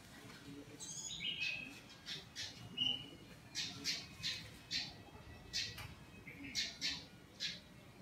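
A small songbird gives a series of sharp, high squawks and chirps, about a dozen short calls in an irregular rhythm over faint background noise, close but fairly quiet.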